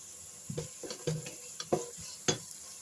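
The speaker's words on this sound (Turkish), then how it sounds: "Şöyle soğanlar pembeleşinceye kadar kavurdum." Onions sautéing in margarine in a pan for a Turkish döğme soup, with a soft sizzle beneath several close utensil scrapes and knocks as they are stirred at an uneven pace.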